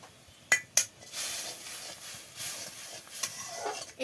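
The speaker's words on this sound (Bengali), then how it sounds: "এবার ডালগুলো ঢেলে দিচ্ছে।" Cooked lentils are poured into a cooking pan with browned onions and oil. A couple of sharp metallic clinks are followed by a soft hissing pour that fades and returns, quiet and close.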